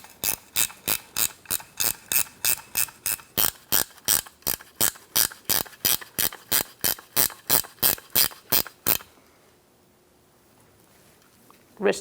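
A ratchet wrench tightens bolts on an air spring of a 2007-2017 Ford Expedition, giving about two dozen crisp, evenly spaced clicks close by before it falls silent.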